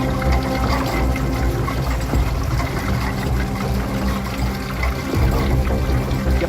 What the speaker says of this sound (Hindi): फिर अंदर से पानी बहने की आवाज कैसे आ रही थी?